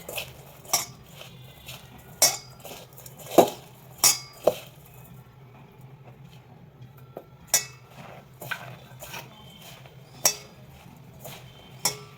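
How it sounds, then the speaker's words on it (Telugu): Spices, cornflour and maida are mixed in a bowl for veg Manchurian, with a spoon striking and clinking against the bowl in sharp, irregular taps spread over quiet stretches, close and clear with no talking. "ఇవన్నీ వేసి బాగా కలుపుకోవాలి"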